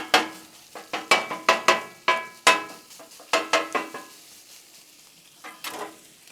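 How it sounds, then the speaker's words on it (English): Jimmy Dean mild breakfast sausage browning on a Blackstone griddle: a steady sizzle under a rapid series of sharp scraping and clanking strokes from a metal spatula, close and loud, slowing near the end. "Shouldn't take long to brown up this sausage."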